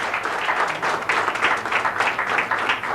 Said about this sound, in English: Okay, you heard the crowd clapping.